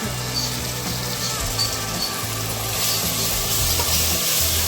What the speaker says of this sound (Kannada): ಸ್ವಲ್ಪ ಹಸಿ ವಾಸನೆ ಹೋಗೋ ತನಕ ಫ್ರೈ ಮಾಡ್ಕೊಳ್ಳೋಣ